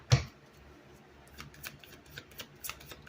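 Tarot cards shuffled during a reading: one sharp riffle burst at the start, then a series of faint, scattered card flicks and taps spread irregularly across the rest.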